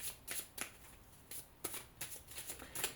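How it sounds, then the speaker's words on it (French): Tarot cards being shuffled and drawn from a deck, a run of quick papery riffles and flicks repeating through the moment, close and fairly quiet with no talking. "je vais tirer cette autre carte pour voir de quoi il en retourne."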